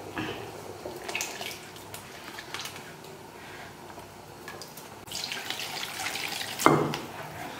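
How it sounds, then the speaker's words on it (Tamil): Water is poured and splashed to dissolve chili and coriander masala powder for a thirukai fish curry, a soft trickle rising to a brief louder splash near the end, heard up close in a kitchen. "பொடியும் மல்லிப்பொடியும் இதை தண்ணி ஊற்றி கரைச்சி அதில் ஊற்றணும்."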